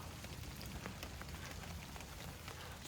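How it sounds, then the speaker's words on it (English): Steady rain falling outdoors near a hunting lease in Kentucky in December, a dense continuous patter of drops on surfaces with no voices. "It's raining."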